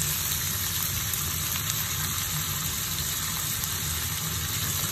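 Green peas hit a hot frying pan with chicken teriyaki, a loud continuous sizzle and hiss that stays even and close for the whole stretch, with no talking.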